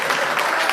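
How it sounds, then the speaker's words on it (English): A brief burst of audience applause at a gathering honouring a retiring Member of Parliament, dense clapping from many hands, loud and close, with no voices over it. "can we get a round of applause for Opito William Seal"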